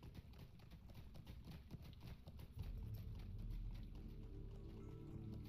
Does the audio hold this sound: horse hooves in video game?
yes